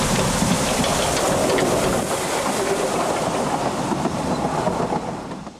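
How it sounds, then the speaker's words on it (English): Prince, a heritage narrow gauge steam locomotive, hauls a short shuttle of heritage rolling stock near Caernarfon, a continuous loud rumbling roll with rhythmic clatter of wheels that fades slightly at the end. "Prince is in action on a short shuttle service, consisting of heritage rolling stock."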